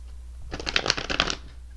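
Tarot cards are riffle-shuffled close up in a single quick burst of crisp fluttering clicks lasting about a second, with quiet room tone on either side.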